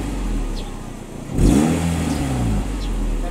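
A Nissan C25 Serena engine with an aftermarket Fujitsubo muffler idles low, then revs to about 2000 rpm around the middle and settles to a steady higher hum with a deep, throaty exhaust tone.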